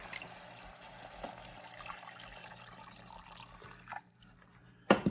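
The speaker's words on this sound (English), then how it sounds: "We're going to add some water." Water pours steadily into a cooking pot for several seconds, a continuous splashing wash that fades out near the end, followed by a brief clatter.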